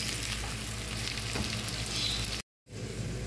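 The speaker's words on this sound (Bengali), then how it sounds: "পেঁয়াজটা বাদামি করে ভেজে নেব।" Salted onions frying to brown in a pan, a steady close sizzle with faint stirring scrapes, broken by a brief cut to silence near the end before the hiss resumes.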